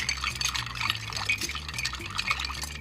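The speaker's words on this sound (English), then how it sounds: "We're just gonna stir these until they become a little bit diluted." A bar spoon stirs whiskey cocktails with ice in a mixing glass, making quick, light clinks and swirls that repeat steadily and close by, with no talk.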